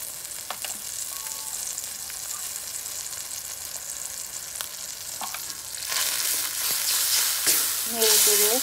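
Garlic and ginger paste frying with turmeric, chilli, salt and coriander powder while being stirred in a pan, a steady close sizzle with occasional scrapes that swells louder in the second half.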